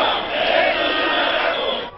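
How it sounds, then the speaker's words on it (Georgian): Civil servants chanting at a large anti-government protest in central Madrid, a loud, dense crowd roar of massed voices shouting in unison, sustained throughout and cutting off at the end. "ამ შეძახილებით საჯარო მოხელეები მადრიდის ცენტრში მასშტაბურ საპროტესტო აქციას მართავენ"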